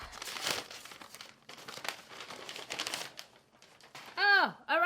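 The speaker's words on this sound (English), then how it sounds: "And I will unwrap and then show you." Crinkling plastic packaging from a Nordstrom Anniversary Sale haul being unwrapped, close and irregular rustles and crackles, with a short high-pitched voice sound near the end.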